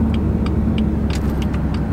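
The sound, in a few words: loud Porsche car engine driving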